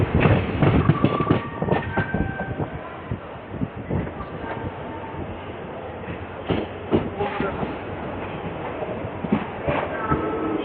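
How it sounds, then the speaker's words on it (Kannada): Belagavi–Mysuru Express train rolling along the rails near Alnavar and Dharwad, with loud rhythmic clickety-clack of wheels over rail joints and rumbling carriage noise throughout, heard from on board. "ಬೆಳಗಾವಿ ಮೈಸೂರು ಎಕ್ಸ್ಪ್ರೆಸ್"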